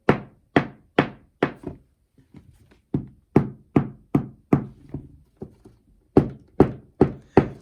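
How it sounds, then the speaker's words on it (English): An Allen Edmonds dress shoe's sole being struck hard, producing a series of sharp, close clunks: four evenly spaced hits, a few softer taps, then two more runs of four loud knocks. "I'm hitting this pretty hard, but the day-night sole is not going to have a lot of clunk with that loud smack"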